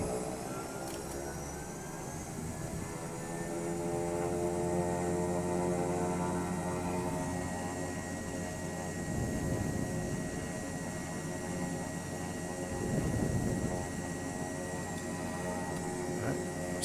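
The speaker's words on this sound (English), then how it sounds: "Right engine high idle setting." Beechcraft King Air 200 turboprop engine at high idle, a loud steady whining hum with a low drone, holding even throughout with slight swells in volume, heard close and alone.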